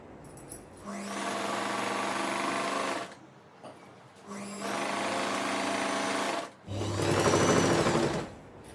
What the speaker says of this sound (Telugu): ఇది రెండు కుట్లు వేసేయండి